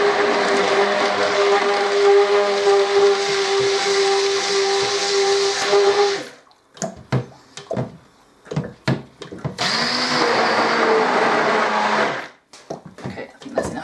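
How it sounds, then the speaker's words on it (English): A blender mixes soap in a loud, steady whirring drone for about six seconds, then stops abruptly, followed by scattered knocks and clatter, a brief second burst of motor noise, and more handling sounds. "Very short shot of blender."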